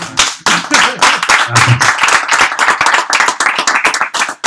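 An audience claps loudly and steadily for a comic author, many hands producing dense, sharp applause that runs unbroken at close range.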